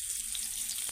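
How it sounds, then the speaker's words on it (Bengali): Kakrol (spiny gourd) sizzles in hot oil in a pan, a steady close-up crackling hiss that runs unbroken for the whole moment. "তো কাকরোল এগুলো ভাজা হোক।"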